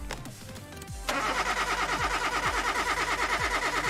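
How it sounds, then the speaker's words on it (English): An engine cranks during a compression test in the Car Mechanic Simulator 2018 video game: a click, then a loud, rhythmic starter churn with regular pulsing beats continuing steadily, no speech. "but we can do a compression test"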